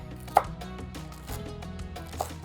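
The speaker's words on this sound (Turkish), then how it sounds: "Şimdi yavaş yavaş bayat ekmeklerim vardı. Onları doğrayacağım." A knife chops through stale bread on a board, cutting it into small squares, with a couple of sharp knocks and steady cutting noise, close and fairly quiet.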